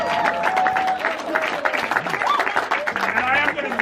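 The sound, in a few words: audience applause for graduates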